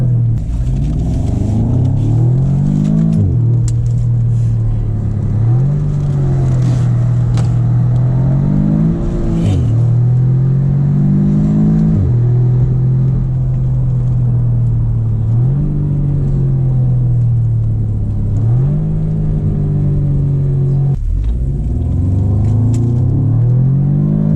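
A 2017 Audi S3 drives with its engine rumbling steadily up close, climbing through several acceleration pulls and gear changes over a continuous low drone.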